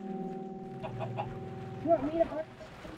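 Chickens clucking in the video game Minecraft, a few soft clucks followed by a louder burst of squawky clucking near the end, over a steady low background hum.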